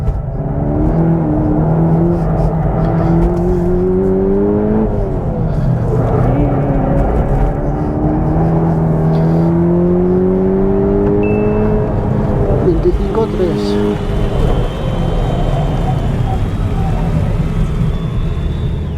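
A Volkswagen T-Roc R's engine pulls hard in third gear on Hankook tyres, a steady loud drone that rises in pitch as the car accelerates, with a voice talking over it throughout.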